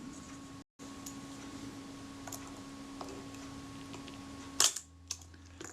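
A quiet mechanical click of a Kodak Retina Reflex camera shutter firing against a low electrical hum, followed by a fainter second click.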